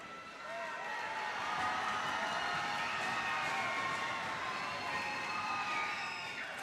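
A crowd cheering and shouting during a close high school boys basketball game between Mainland and Palm Bay, a sustained loud roar of voices filling the gym that swells and holds steady.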